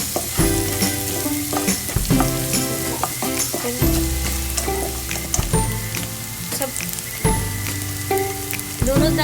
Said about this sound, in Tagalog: Hintayin natin na mag-brown yung bawang.